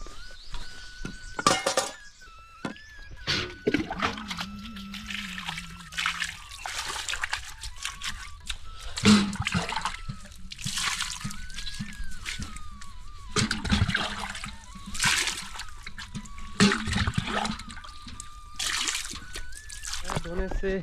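Dirty feet being washed with warm water during a Narmada Parikrama pilgrimage, with repeated splashes, pours and trickles in short bursts close by, while people talk over the water throughout.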